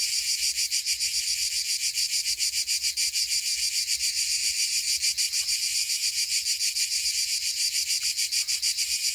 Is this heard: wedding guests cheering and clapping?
no